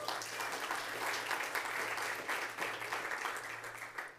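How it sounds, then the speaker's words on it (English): Steady audience applause fills a City of Frederick Hispanic Heritage Month briefing, a dense, even patter of many hands clapping at moderate distance with no voices over it. "I think that deserves a round of applause."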